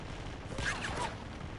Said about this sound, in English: the helicopter's still shooting at you